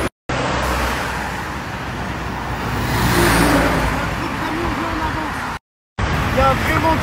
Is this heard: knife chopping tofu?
no